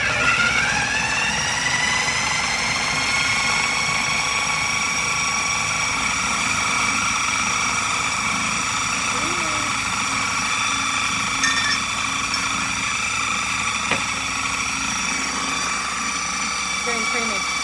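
A blender runs continuously, blending garlic scape pesto made from garlic scapes, herbs, salt, Parmesan, olive oil and nuts, a steady high motor whine held at one level with no pauses.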